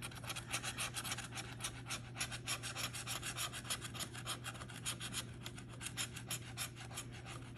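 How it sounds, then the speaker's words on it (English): Heavy duty scratcher rasping across a Gold Rush lottery ticket, steady rapid back-and-forth scraping strokes, close and fairly quiet with no talk. "I got my heavy duty scratcher today so we can clean the ticket."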